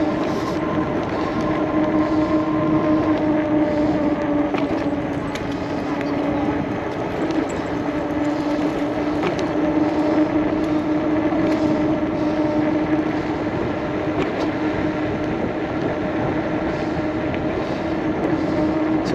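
An ENGWE X26 1000 watt fat tire electric bike runs on throttle alone, giving a steady motor whine and wind rush over continuous rolling road noise.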